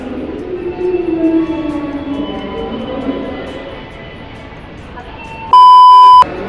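A face recognition boarding gate at a train station gives one loud steady electronic beep lasting under a second, sounding clearly after a stretch of station hum and murmur.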